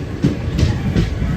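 A Kacheguda-Mysuru Express train running near Falaknuma station, its steady low rumble punctuated by three rhythmic wheel thumps over rail joints, close and fairly loud, with no voices.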